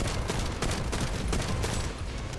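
Rapid, loud gunfire from The First Descendant, bursts of automatic shots in quick succession, dense and continuous across the whole stretch, with no speech.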